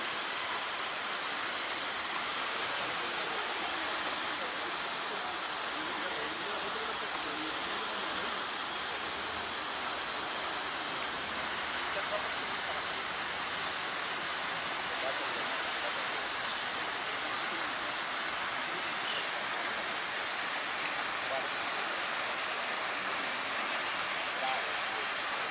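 A fountain at the Crystal Palace in Madrid's Retiro Park splashes in a steady, dense wash of falling water that holds constant throughout.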